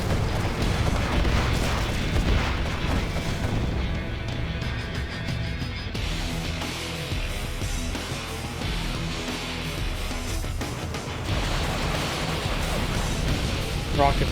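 Rocket V volley in a Command and Conquer Generals Zero Hour battle, a muffled run of booms and crackling impacts under a steady roar of battle noise, with someone talking over it throughout.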